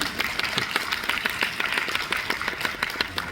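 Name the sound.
audience applause at a film screening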